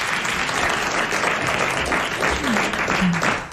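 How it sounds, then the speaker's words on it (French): Sustained applause from a French television studio audience, a thick even wash of clapping at full volume throughout, with a faint voice near the end. "Vous venez d'applaudir Monsieur Maurice Hogg de Pont-à-Marc"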